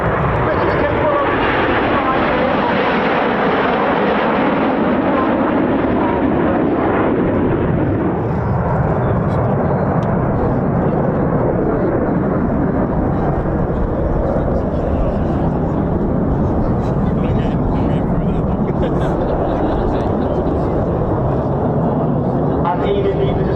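Display aircraft, each fitted with a smoke pod, fly at the RAF Cosford Air Show, giving a loud, sustained broadband roar that swells and slowly fades as they leave, with a commentator talking over it throughout.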